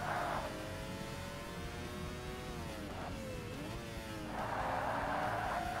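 Mazda RX-7 rotary engine in Forza Motorsport, a steady buzzing drone whose pitch rises and dips as it revs while drifting, loud and continuous with no talking.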